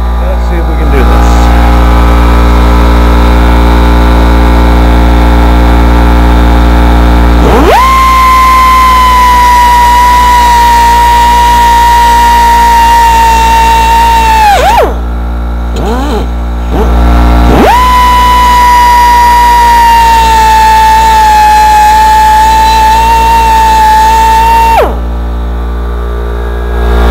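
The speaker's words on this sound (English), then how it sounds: "Let me get the air compressor running here." A shop air compressor runs near and loud with a steady drone and a whining pitch, stopping briefly and restarting twice. Faint talk is heard during the running.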